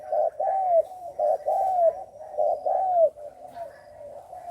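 A young spotted dove, about seven months old, coos in a close, clear series of five or six rounded, descending phrases with short gaps, then trails off into softer notes.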